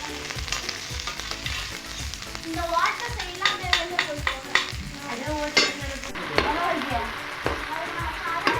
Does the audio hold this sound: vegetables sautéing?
yes